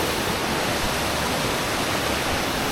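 Waterfall in Bali, reached after a hard hike: a steady, dense roar of falling water fills the whole scene, constant and loud with no pauses and no voices.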